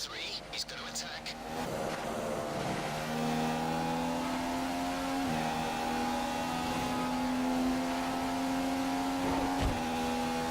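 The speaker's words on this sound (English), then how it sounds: "The car behind is running on full revs." In the F1 2015 game, set in Australia, a Formula 1 car's engine screams at high revs with steady gear-shifting whines and a short tyre squeal, while a player talks over it.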